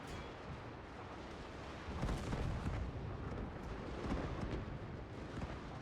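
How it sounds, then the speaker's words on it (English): Breech-loading artillery and rifle fire roar in a Shogun 2 Fall of the Samurai battle, with a rumbling barrage of heavy booms and explosions that swells and ebbs across a dense wash of distant battle noise. "the sheer amount of destruction these breech loaders and artillery are able to unleash"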